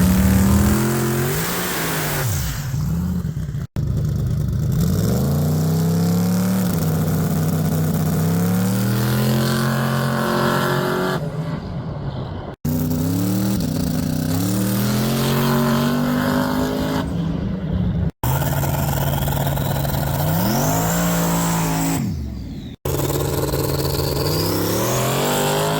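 Small-tire drag race cars, including a Camaro, roar hard off the line in a first round, each long full-throttle pull rising in pitch through gear changes, loud and close, with several runs separated by brief cuts.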